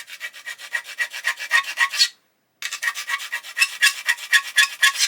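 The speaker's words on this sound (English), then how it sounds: "the file will take away the sprue nib" A metal file rasps against a hard HK plastic part from a 1/32 A-20G Havoc model kit, taking off a sprue nib. Steady back-and-forth strokes run close and fairly loud, with one brief pause partway through.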